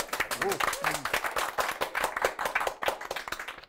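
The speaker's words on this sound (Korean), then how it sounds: "박수 부탁드리겠습니다" An audience at a CEO talk event claps for the guest, dense applause throughout with a voice speaking briefly over it near the start.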